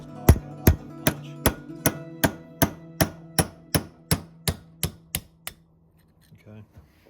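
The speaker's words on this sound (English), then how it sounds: "Just knock that out with a punch." A hammer strikes a punch against a roll pin in an engine's distributor gear, sounding as fourteen sharp metallic taps at an even, quick rhythm that fades slightly before stopping.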